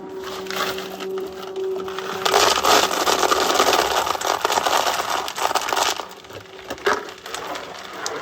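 An American 180 automatic drum loader runs and feeds ammunition from its hopper into the drum, giving a continuous dense rattling and clicking churn that grows busier midway, close and steady with no talking.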